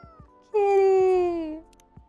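A cat gives one long, loud, drawn-out meow close to the mic, rising and then fading, with light clicks and taps before and after.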